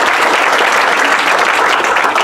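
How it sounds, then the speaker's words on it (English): A large crowd claps steadily and densely at a university college groundbreaking ceremony, a loud continuous wash of applause with no pauses. "a clapping crowd."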